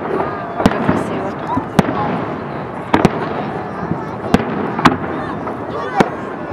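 Victory Day fireworks salute bursting over Izhevsk on 9 May, a rapid series of sharp, loud booms at irregular intervals over a crowd's steady murmur, with people talking nearby.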